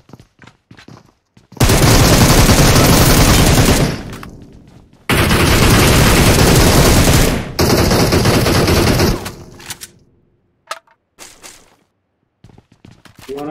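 M4 rifle fire in the BATTLEGROUNDS Mobile India video game comes as loud, sustained automatic bursts separated by brief pauses, followed by scattered softer shots and thuds.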